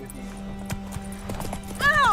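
Roach, the horse in the video game The Witcher 3, trotting in a quick series of hoof clops near the listener, with a short whinny-like cry at the end and someone talking over it.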